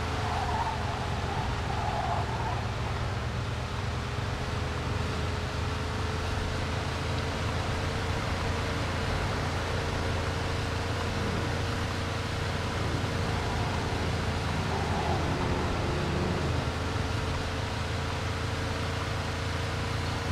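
A car speeds along in the Mafia II video game, a continuous loud engine roar with rushing road and wind noise that holds steady throughout, with no pauses.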